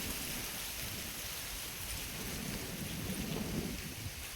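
Steady rain pours down without pause, a dense hiss with a low rumbling undertone, no voices.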